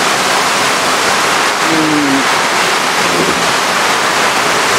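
Water rushes steadily in a loud continuous gush as it drains from a catfish breeding tank, with a brief tone sounding faintly beneath.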